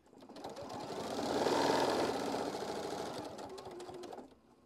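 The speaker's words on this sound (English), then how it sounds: "Now I'm going to just sew a quarter of an inch all the way down." A sewing machine stitches a quarter-inch seam on fabric pieces cut from a petal template, a soft steady motor whir with a rapid needle rhythm that swells and then fades as it stops.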